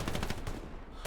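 Rapid bursts of video game gunfire as a player pre-fires at corners in an 18-versus-18 match, a dense run of close, loud shots filling the short stretch with only a brief dip near the end.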